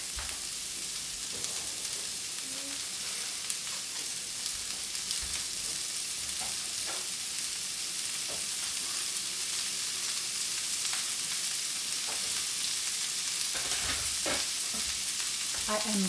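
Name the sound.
chicken frying in pan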